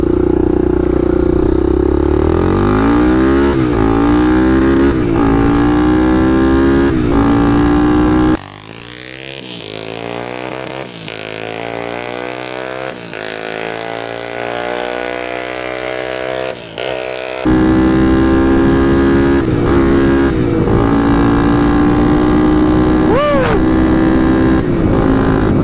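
A 1,000-dollar used Honda ATC 350x three-wheeler runs loud and close on its first ride, the engine note climbing and falling through gear shifts with harmonic whine and a brief drop in the middle. No one speaks.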